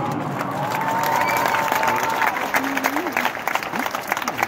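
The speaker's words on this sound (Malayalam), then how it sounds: "അതാണ് എല്ലാവരും ക്ലാപ്പ് ചെയ്തത്." Crowd applauding in St Peter's Square at the Vatican as the Pope appears, a broad wash of clapping and some cheering heard from within a large open-air gathering, thinning toward the end while voices carry over it.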